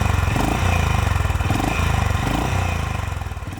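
A Honda H'Ness CB350 motorcycle's exhaust thumps steadily at a loud, close idle, a deep pulsing single-cylinder beat that rises and falls slightly without pause.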